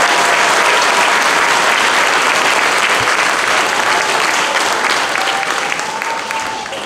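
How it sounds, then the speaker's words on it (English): An audience at a school winter concert claps steadily for new honor society inductees, a broad, loud round of applause that holds for several seconds and tapers slightly at the end. "Let's have a big round of applause for our inaugural members of the Wanaque District Chapter of the Triumph National Honor"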